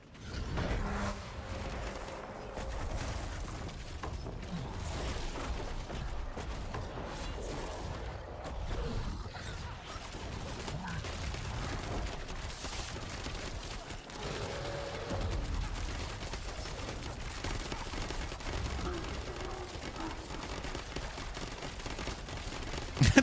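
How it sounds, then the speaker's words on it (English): Barrage projectiles firing in Diablo 4: a dense, continuous rattling stream of rapid mechanical clicks and creaking pops, loud and sustained across the whole stretch over a rumbling low bed, with no talking. "The barrage projectiles are making this weird sound"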